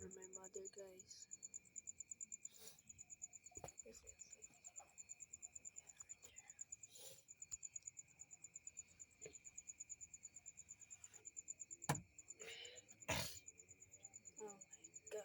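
Steady, shrill insect chirping fills the night air outside, most likely crickets, with a continuous high buzz and a second pulsing tone running throughout, broken by a few brief knocks and rustles.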